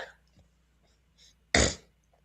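A single sharp cough bursts out close after a quiet stretch with faint background noises.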